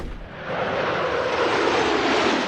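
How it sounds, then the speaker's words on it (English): Jet fighters roar overhead at China's largest air show, a loud, broad rushing engine noise that swells and holds steady without any voices. "Jet fighters streaking across the skies at China's largest air show"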